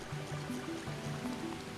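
A waterfall in The Legend of Zelda: Ocarina of Time 3D, a steady rushing wash of water with stepped game music tones on top, heard alone.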